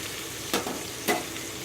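Onions sauté in a pan with salt, a steady soft sizzle broken by two quick stirring scrapes, close and with no talk.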